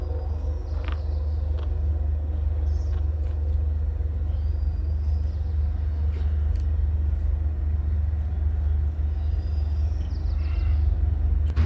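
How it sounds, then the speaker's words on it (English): A passing train outdoors produces a loud, steady low rumble that holds throughout, with faint higher squeals and clatter drifting over it and no talking. "Sorry about the train, it's gonna be loud for a second."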